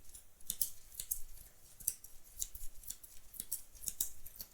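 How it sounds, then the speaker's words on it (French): A thick, mixed deck of playing cards being shuffled, with a steady series of crisp riffling snaps and flutters repeating roughly every half second, close and alone without talk. "je mélange avec des cartes différentes pour avoir un paquet plus épais à mélanger"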